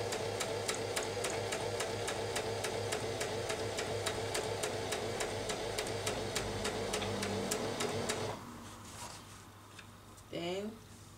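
A sewing machine stitches a chiffon round neckline in a fast, steady mechanical run that stops abruptly near the end, leaving a quiet room with a brief rustle of fabric.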